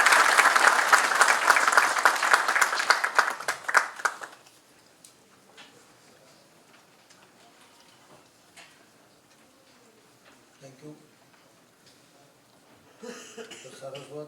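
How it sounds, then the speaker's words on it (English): Audience applause at a business forum on defence sector opportunities, loud dense clapping from a large hall for about four seconds before fading to quiet room noise. "A thunderous applause,"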